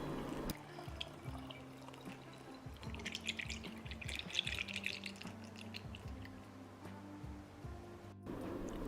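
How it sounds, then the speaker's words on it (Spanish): Water for a homemade hair tonic is poured into a small glass jar, giving close trickling and dripping liquid sounds with faint splashes against a low steady hum and no talk. "vamos a estar añadiendo toda el agua en nuestro botecito de cristal"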